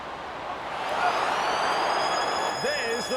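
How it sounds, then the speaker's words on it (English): A full-time siren sounds in the Rugby League 26 video game during a Rabbitohs versus Dragons match: a sustained, wavering electronic tone rides over a loud, steady crowd roar, with a voice beginning just before the end. "There's the full-time siren"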